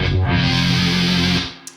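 An Electro-Harmonix Micro Synth pedal plays a buzzy, sustained synth tone as its filter sweeps closed, running steadily for over a second before the sound darkens and drops away.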